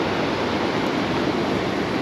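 River water rushing steadily over the Thamaraipakkam check dam on the Kosasthalai river, a dense, continuous broadband roar with no breaks and no voices, loud and close.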